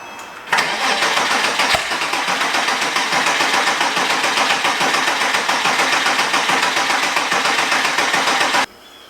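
A Porsche Cayman S engine with scored cylinders cranking on the starter with the fuel pump relay pulled, a loud, steady whirring churn lasting about eight seconds with a slightly uneven, stuttering rotation, then cutting off abruptly without firing.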